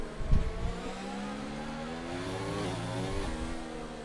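Race cars in a racing video game scream through a fast right-hand turn at the Spain circuit, engines revving and shifting pitch as they pass close by, loud and steady with no talk.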